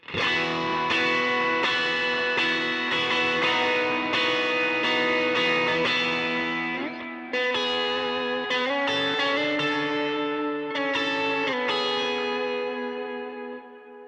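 Overdriven electric guitar rings out sustained, distorted chords with lush delay and reverb tails that smear each change together, loud and alone.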